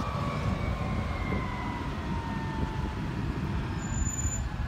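Emergency vehicle sirens wail steadily in the distance, slow rising and falling tones over a constant low rumble of traffic, with no voices.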